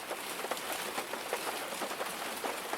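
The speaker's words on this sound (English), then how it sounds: "you can hear the rain gently bouncing off the tin roof and the plants in the beautiful garden around you" Gentle rain pattering on a tin roof with plants in a garden around, a faint, even patter of drops with no voices.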